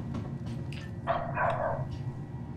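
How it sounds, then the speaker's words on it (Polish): In the background, a dog barks a few times, faint and distant, over a steady low hum, with one fuller bark in the middle. "Przepraszam za psa szczekającego w tle."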